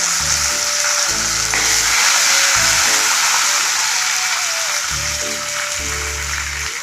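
Green chillies frying with chana dal in hot oil for a cabbage chutney, a loud, steady, close hiss of sizzling that holds throughout, with intermittent low tones in the background.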